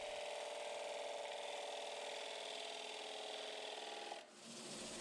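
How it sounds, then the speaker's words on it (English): Sanding a thin turned wooden bowl gives a continuous, even rasping hiss at close range, holding steady before briefly dipping near the end. "The piece is sanded smooth and finished off with food-safe Danish oil."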